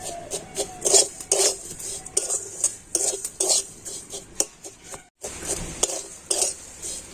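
Vermicelli stirred in a pan with powdered milk and powdered sugar: repeated close scraping and clinking of a utensil against metal in uneven bursts, with a short pause near the end.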